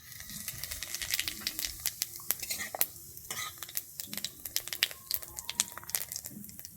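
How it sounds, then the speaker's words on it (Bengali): Whole cumin seeds crackle and sizzle in leftover fish-frying oil in a pan, a dense stream of sharp pops and spits over a steady hiss with occasional stirring clinks, close and fairly loud, no talking. "আমি ওই মাছ ভাজার তেলেই দিয়ে দিচ্ছি গোটা জিরে হাফ চামচ"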